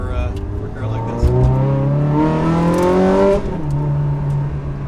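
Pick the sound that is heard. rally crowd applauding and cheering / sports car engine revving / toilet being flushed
sports car engine revving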